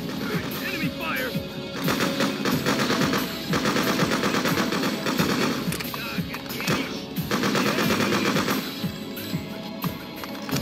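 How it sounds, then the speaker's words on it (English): Sustained machine gun fire in the Freedom Fighters video game: dense, rapid bursts of automatic shots in long stretches with short pauses between, loud and close, mixed with game sound effects and some voices. "Enemy fire."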